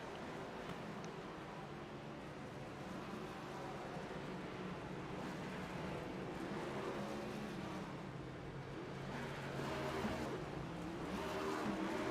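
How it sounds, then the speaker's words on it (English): A race car in a racing video game doing a burnout at COTA, a steady loud engine roar with tire squeal and skidding noise swelling toward the end. "Doing his burnout"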